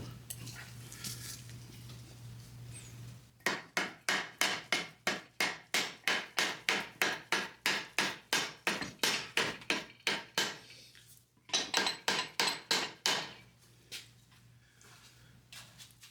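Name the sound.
hammering a part onto a VW Beetle front beam with a small mallet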